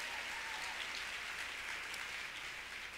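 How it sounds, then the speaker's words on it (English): Steady applause from a luncheon audience fills the room, dense and continuous clapping at even strength throughout, with no voices over it. "one more round of applause for Jennifer."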